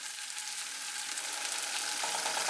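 Diced red onion hits a hot frying pan with crushed chili peppers for a Spanish omelette, giving a steady, close hiss of frying that swells slightly toward the end.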